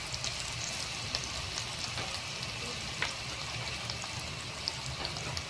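Garlic sautéing in a hot pan for chicken caldereta gives a steady, close sizzle and crackle that stays even throughout, with no voices over it.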